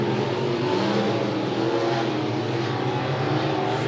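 Race cars drone steadily around a dirt track during heat races at Monett Motor Speedway, a continuous loud engine roar blending several cars without clear pass-bys, no voices on top.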